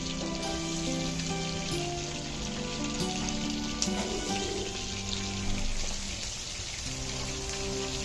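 Sliced onions frying in butter and a tablespoon of oil in a pan, a steady, dense sizzle and crackle running continuously throughout, with faint background tones.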